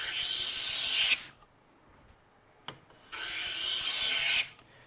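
Hand plane shaving Laminex (Formica) laminate glued to plywood, two close, loud rasping strokes about a second long each with a short knock between them and quiet pauses.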